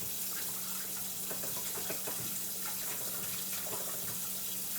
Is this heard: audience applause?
no